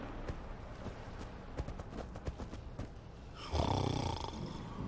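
A Minecraft Story Mode character snoring in-game, low and soft, with faint clopping footsteps underneath, then a louder burst of game noise near the end; no talk.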